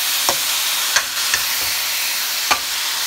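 Soy-sauce-seasoned beef for stew sizzles steadily in a pot as it browns, a constant close frying hiss broken by a few sharp clinks of stirring at irregular moments.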